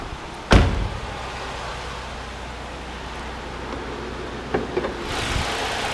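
On a 2006 Chevrolet Malibu, a single sharp metallic thunk as the hood latch releases stands out over a steady idling engine, followed by a few softer clicks and rattles.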